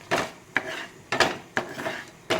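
A metal spoon scrapes and knocks against a pan while spices roast in coconut oil, with four or five distinct strokes in an uneven rhythm, close and moderately loud.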